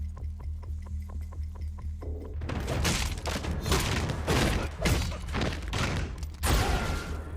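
Blaster fire in a Star Wars: The Mandalorian scene comes as a dense, loud volley of overlapping shots over a low rumbling hum, following a quieter stretch of rhythmic mechanical ticking.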